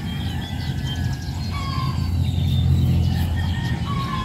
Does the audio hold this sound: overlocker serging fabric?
no